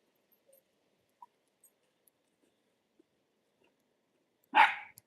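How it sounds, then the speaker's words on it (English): A single sharp dog bark rings out near the end after mostly quiet moments with a few faint clicks. "She always barks at other dogs."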